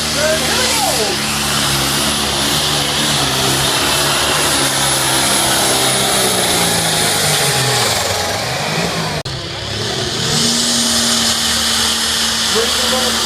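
A diesel tractor engine labours under heavy load as the clutch engages and the tyre starts turning, a loud, steady droning rumble with shifting pitch held throughout, briefly dipping near the end before resuming.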